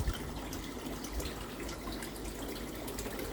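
Steady, continuous splashing of a waterfall falling into a koi pond, a constant rushing wash with no voices.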